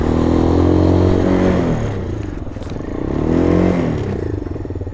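A 125cc mgb ATX adventure motorcycle engine runs loud and close, its pitch rising under throttle, dipping around a gear change, then climbing again with a steady rough drone.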